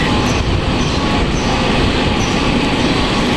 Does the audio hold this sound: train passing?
yes